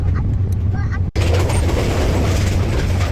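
A passenger train rolls along the rails toward Srimangal, a steady low rumble with faint clatter, broken by a brief dip before the noise resumes, and a voice talks briefly at the start.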